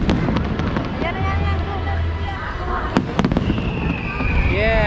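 Fireworks exploding outdoors in the Philippines: repeated crackling pops and bursts along with whistling rising streaks, heard at moderate distance while people chat nearby.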